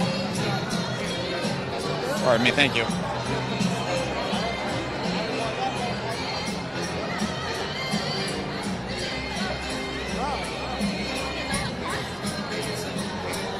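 Dense crowd babble fills a victory party for Abdul El-Sayed, steady chatter and voices throughout with a brief burst of cheering near the start; a nearby person speaks briefly over the din.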